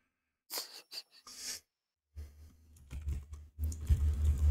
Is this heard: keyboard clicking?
yes